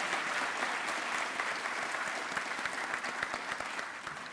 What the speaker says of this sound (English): Let's give another round of applause to Janaya.